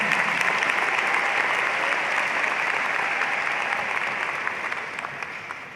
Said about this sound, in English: You can applause to that.